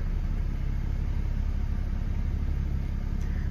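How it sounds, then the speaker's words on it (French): A BMW 335d diesel engine idles after an oil change, giving a steady low, even rumble that sits fairly quiet and unbroken throughout, with no voices. "Et on va laisser le moteur tourner au ralenti comme ça pendant pas mal de temps."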